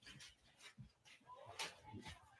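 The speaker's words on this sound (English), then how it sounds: "This poor dog doesn't know what to think." A dog heard playing back from a video whimpers, pants and gives small yips in faint, uneven bursts, mixed with quiet background voices.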